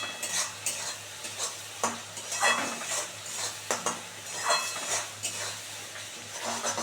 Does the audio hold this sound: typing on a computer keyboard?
no